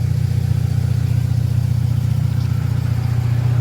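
A Honda Civic SiR idles with a steady, loud, low engine drone and an even pulsing rumble throughout, with no voices.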